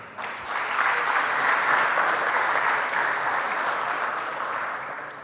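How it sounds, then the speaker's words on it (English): An audience at a firmware conference welcomes a speaker with a dense, steady wash of applause that stays loud for several seconds and then slowly tapers. "give him a warm welcome and a round of applause for Samuel"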